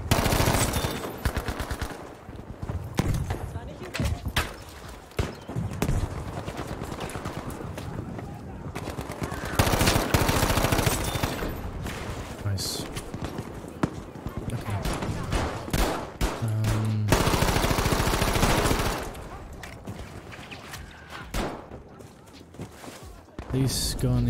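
Rapid automatic gunfire from a weapon in the video game Battlefield V, with repeated bursts and sustained volleys under a player's voice.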